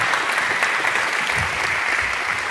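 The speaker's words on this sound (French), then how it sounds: "des applaudissements chaleureux" Warm applause fills a hall after a speech by a French minister, a steady, dense clapping from a sizable audience throughout.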